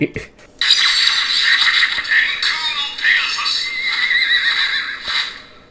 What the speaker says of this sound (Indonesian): Ini ada suara kudanya malah ya